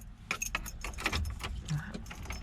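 Car keys for a 1990 Mazda Miata jangling close up, a few quick metallic rattles and clinks in a continuous short burst, with low vehicle rumble beneath.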